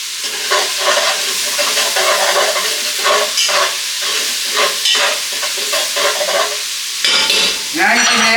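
Garlic and onions sizzle loudly in a pan while a spatula scrapes and stirs them in steady strokes, close and alone.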